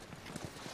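Horse hooves in The Last of Us, a few soft clopping steps heard close over a steady ambient bed, lasting under a second with no talk.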